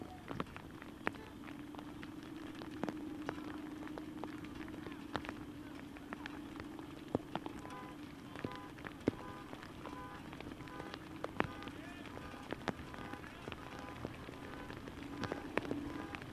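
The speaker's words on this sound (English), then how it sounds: "there was some weather reports that the rain will be coming through right about now" Rain falling on a high school baseball game between Bloomsburg and Central Columbia: a faint, steady wet hiss dotted with scattered sharp drop ticks, continuous throughout with no voices.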